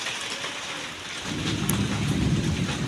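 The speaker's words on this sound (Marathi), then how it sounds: "तर जोराचा पाऊस येता काळोख बघा" Heavy monsoon rain in Konkan roars steadily and swells louder partway through, with thunder rumbling low beneath the downpour and no voices heard.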